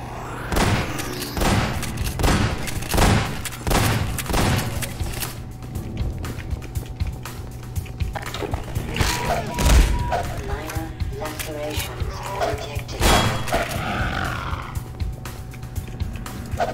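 Gunfire in the video game Half-Life 2 Episode One sounds as repeated sharp shots over continuous game noise, with a person talking throughout.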